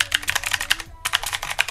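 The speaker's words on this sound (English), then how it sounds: "So the keyboard itself is supposedly a blue switch, so it has a pretty nice tacky feel here." Rapid typing on an AJAZZ RGB mechanical keyboard with blue switches, a close, crisp run of clicky keystrokes broken by one short pause midway.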